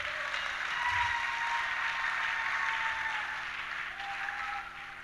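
A church seminar congregation claps for the Lord, a sustained crowd applause that swells early and tapers slightly toward the end.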